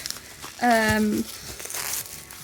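A brief crinkling, tearing rustle of bubble wrap and yellow tape on a parcel, close up, with a short squeaky stretch in the middle and lighter rustling after.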